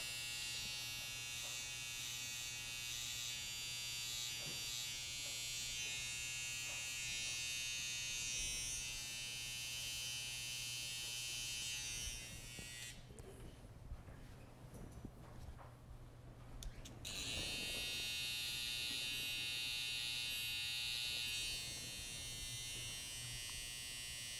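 Electric hair clipper buzzing steadily while trimming one side of a client's hair, a constant close hum that briefly drops and changes tone midway as the blade shifts position before resuming its loud, even drone.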